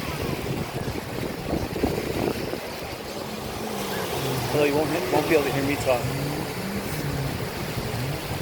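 Steady wind and breaking surf roll in on Fort Myers Beach, Florida, a broad continuous roar that swells slightly midway, with a person talking over it throughout.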